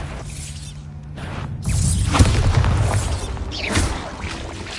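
A Bombarda blasting spell in Hogwarts Legacy bursts with a loud, rumbling low boom that swells and sustains for a few seconds. A brief crackle comes before it and a second rise of rumble follows.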